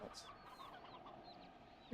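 Chickens cluck softly in the background of a video game, several short chirpy calls spread across a brief, quiet stretch with no talking.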